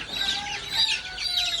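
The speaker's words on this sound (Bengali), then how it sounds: "অলরেডি দেখেন ছাদে মুরগিগুলো ধরতেছে," Chickens being caught on a rooftop cluck and squawk in short, overlapping bursts at moderate distance, with no talking.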